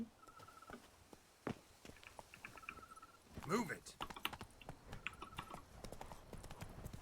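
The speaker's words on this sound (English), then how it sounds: "I can call my horse now though." Horse hooves clip-clopping in The Witcher 3, a steady rhythmic patter of hoofbeats close by, with keyboard clicks and brief talk over it.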